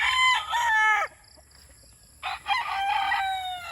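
An 8-month-old Sweater over Boston Roundhead gamefowl rooster crows loudly and close by, giving two strong crows with a short pause between them.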